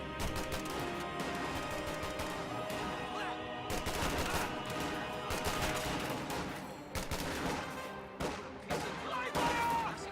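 Video game battle crossfire: dense rapid gunfire with overlapping bursts and heavy impacts, loud and continuous, with brief lulls before volleys resume.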